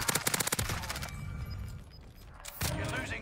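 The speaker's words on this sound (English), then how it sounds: "people shooting from 900 miles away" Rapid bursts of video game gunfire crackle in a dense volley at the start, then fade into a quieter background of game effects before another loud burst near the end.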